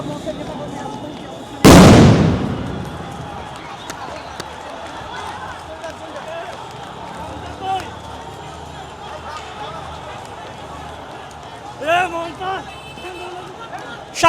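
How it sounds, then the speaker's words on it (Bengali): A single sound grenade bursts with a sharp, loud blast and a decaying rumble during a police crackdown at Shahbagh, followed by an outdoor crowd murmur and voices. "শাহবাগ চত্বরের ঠিক মাঝে আমরা লক্ষ্য করেছি একটি সাউন্ড গ্রেনেড ইতিমধ্যে নিক্ষেপ করেছে আইন শৃঙ্খলা রক্ষাকারী বাহিনী"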